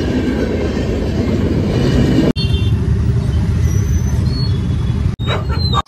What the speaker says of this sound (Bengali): ট্রেন ঢুকলো।